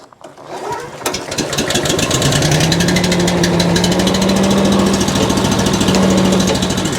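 A small gas engine on a wheeled leaf blower with air tires starts and settles into a loud, steady rattling idle with a buzzing mechanical drone that holds close and constant.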